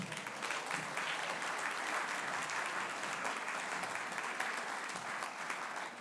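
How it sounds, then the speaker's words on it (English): An audience at a school spring band concert gives a high school band a round of applause, a dense, steady wash of clapping that stays even and full throughout, with no voices over it. "So give our high school band a round of applause"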